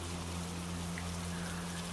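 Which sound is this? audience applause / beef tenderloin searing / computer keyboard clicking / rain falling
rain falling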